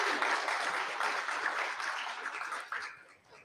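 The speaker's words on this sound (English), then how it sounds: "let's give them a round of applause" A congregation at a Sunday morning service and graduation ceremony claps for the graduates, a soft, even round of applause that tapers off near the end.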